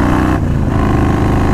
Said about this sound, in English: still record the exhaust sound